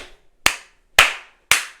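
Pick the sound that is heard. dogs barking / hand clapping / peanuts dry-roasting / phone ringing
hand clapping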